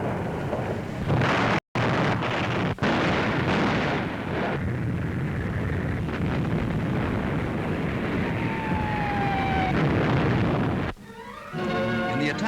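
Heavy artillery shelling against German gun positions during a World War II invasion, a continuous roar of explosions and rumbling blasts with a brief cut and a whistling shell passing near the end.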